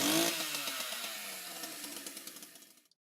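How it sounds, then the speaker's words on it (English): A chainsaw runs at high revs with a loud, harsh buzzing whine that slowly drops, then pulses in short sputtering bursts as the engine winds down and cuts off. "this is a chainsaw"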